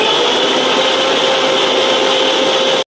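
A mixer grinder whirs loudly and steadily as it blends chopped beetroot with a glass of water in the jar, a dense close roar with a faint whine that cuts off abruptly at the end.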